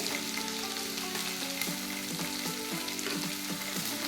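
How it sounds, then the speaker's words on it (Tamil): Beans, carrots, potatoes and green chillies for white kurma sauté in a pan with a steady, close, bright sizzle and occasional stirring scrapes. "லைட்டாக வதங்கட்டும்"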